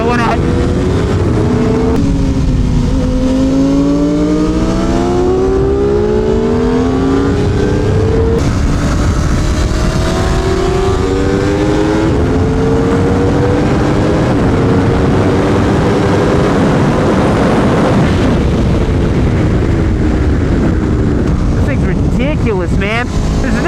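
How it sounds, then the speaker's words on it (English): Aprilia Tuono V4 1100 Factory naked motorbike ridden hard on a race track, a loud roaring engine rising and falling through repeated upshifts, with wind rush and a rider's voice talking over it. "This is the most capable naked bike I've ever put on track, no doubt."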